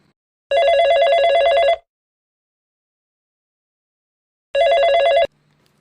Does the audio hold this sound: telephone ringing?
yes